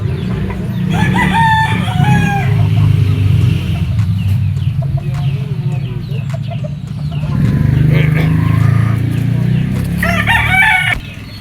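A yellow-legged Peacock gamefowl rooster crows loudly nearby, two drawn-out crows with clucking between, over a steady low rumble of background noise in a backyard breeding yard.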